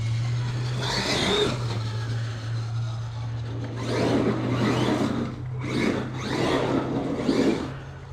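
A Traxxas X-Maxx RC car's electric motor revs in repeated surges with the throttle turned down, rising and falling whines over a steady low hum, fairly close.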